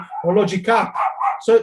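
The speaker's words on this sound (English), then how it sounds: "that's my dog. I cannot stop my dog." A pet dog barks and yips in several sharp bursts indoors, loud and close, overlapping with a man's speech.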